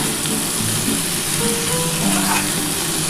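Potato and eggplant frying in catla fish fat, a dense continuous sizzle filling the pan up close, steady and fairly loud throughout, no talking.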